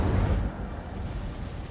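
A fire spell cast in a video game erupts as a short, loud rumbling burst, then settles into a steady crackling roar that carries on at lower volume.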